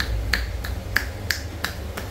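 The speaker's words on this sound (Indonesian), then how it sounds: "Ini tepuk-tepuk saja dulu," Hands patting the back of the thigh over the hamstring during a massage, a series of about seven sharp, evenly spaced pats, close and clear over a low background hum, with no talking.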